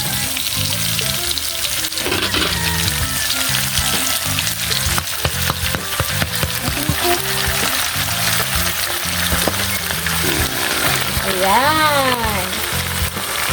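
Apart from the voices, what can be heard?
sautéing and stirring bottle gourd with sardines in a pan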